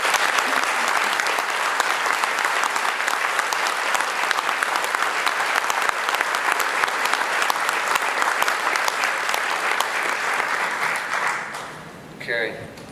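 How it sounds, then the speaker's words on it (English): Loud, dense applause from an audience at an award presentation, honoring three finalists for the Chamberlain Award, sustained steadily before tapering off near the end, when a brief voice cuts in. "give all three finalists a round of applause"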